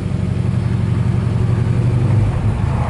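1965 Ford Mustang convertible on a test drive, its engine a loud steady mid-pitched drone that swells slightly toward the end, heard close and without talk.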